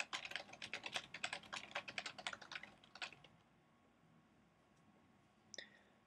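Fast, close computer keyboard typing, a dense flurry of crisp key clicks for about three seconds, then near silence broken by a single late click.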